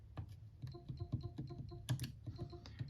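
Rapid, irregular keystrokes on a computer keyboard, close and crisp, with no talking, as a browser launch option is typed for a Steam Deck.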